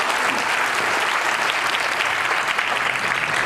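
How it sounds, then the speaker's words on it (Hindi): Audience applause at a Delhi Police Week 2021 event, a steady dense wash of clapping that fills the whole stretch evenly without a break, loud and close with no voices over it. "पहले ही एक बार तालियों से दुआ सलाम तो हो जाए"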